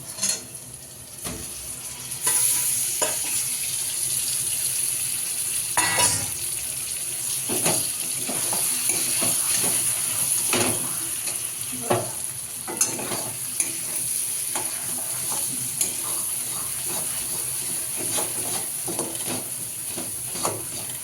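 Lentils for dal fry tip into a pan holding boiled ginger, and a bright, steady sizzle bursts in after a short pause, broken by repeated scraping and stirring clatter.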